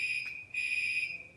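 A fire alarm sounds with a steady, piercing electronic tone at a fixed high pitch, briefly dropping out for a moment before resuming, loud and alone with no talking.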